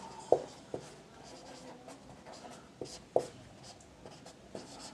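Handwriting on paper while solving a maths exercise, close pen scratches and strokes with a few sharper taps as the pen meets the page, quiet and without talking.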